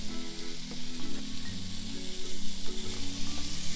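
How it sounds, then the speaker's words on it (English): Chicken breasts and Vidalia onions sizzle in a pan, a steady dense hiss with faint stirring under a droning hum and no talking. "fry down all the chicken in with all these Vidalia onions"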